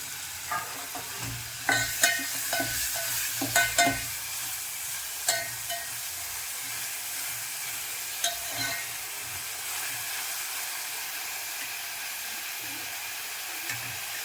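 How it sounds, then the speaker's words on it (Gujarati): Masala pasta ingredients sizzle steadily in a hot pan while a spoon stirs and scrapes, with a cluster of sharp clinks early on, then continuous frying. "ચમચાથી ધીમે ધીમે એને ચલાવતા રહેશું."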